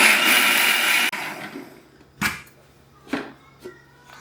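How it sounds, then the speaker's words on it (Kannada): A mixer grinder grinds spices with a little water for bitter gourd curry, whirring loudly for about a second, then cuts off, followed by a few faint knocks in the quiet. "ಸೊ ಇಷ್ಟನ್ನು ನೀವು ಮಿಕ್ಸಿಗೆ ಹಾಕ್ಕೊಂಡು ನುಣ್ಣಗೆ ರುಬ್ಕೋಬೇಕಿದೆ"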